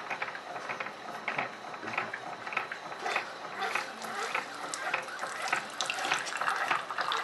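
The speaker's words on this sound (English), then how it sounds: "and it will start making your coffee." A Keurig 2.0 K450 coffeemaker brews an 8-ounce cup, giving a steady close-up rush of pouring, faucet-like water with faint mechanical whirring and ticking from the pump underneath.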